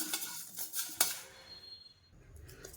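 Dried red chillies being lightly roasted in a pan for idli sambar, with metallic scraping and clinks of a spoon against the pan and a faint sizzle, close and alone.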